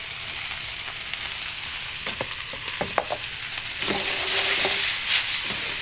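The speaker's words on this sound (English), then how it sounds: "it's more of a stir-fry dish" Vegetables stir-frying in a wok for a Wagamama-style noodle dish, a steady loud sizzle and hiss with scattered clicks and scrapes of stirring, no voices.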